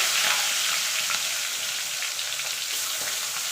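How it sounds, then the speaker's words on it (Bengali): Tangra fish fry in hot oil, making a dense, continuous crackling sizzle that stays loud and even throughout, with no voices. "এবার ট্যাংরা মাছগুলো ভেজে নেব।"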